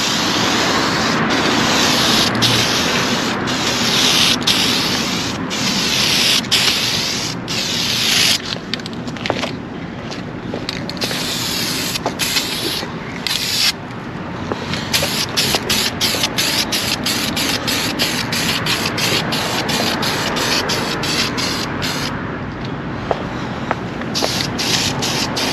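An aerosol can sprays gloss black paint onto plastic that has been primed with adhesion promoter. Long, close hissing bursts come one after another, with brief pauses and the rattle of the can between them.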